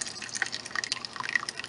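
Liquid melt-and-pour soap being poured into a loaf mold, a faint, steady trickle with soft dripping and splashing throughout.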